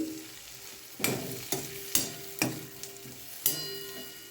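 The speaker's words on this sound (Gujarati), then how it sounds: "સરસ બધું આપણે હવે મિક્સ કરીશું" A spoon stirs and scrapes spices in a sizzling frying pan while cooking kadhi with green pulao, giving a steady frying hiss broken by about seven sharp, close clanks at irregular intervals.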